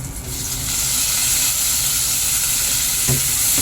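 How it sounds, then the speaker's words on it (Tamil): Whole dried red chillies fry in oil over a low flame with a steady, close sizzle and hiss that holds throughout, broken by a brief clatter near the end. "வரமிளகா 3 முழுசாகவே போட்டிருக்கேன். அதுவும் நல்லா எண்ணெயில் வதங்கட்டும்."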